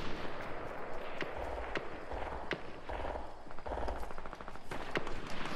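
Compact SMG fire in Fortnite, with several short rapid bursts spaced out by brief pauses, each a quick rattle of shots over background game noise.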